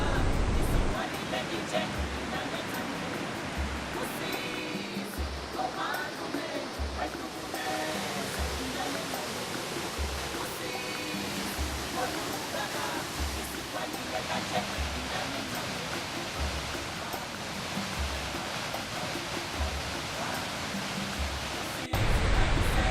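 Victoria Falls in Zimbabwe, seen in the dry season, roars as a dense, steady wash of broadband noise, loud and continuous, with a person talking over it throughout.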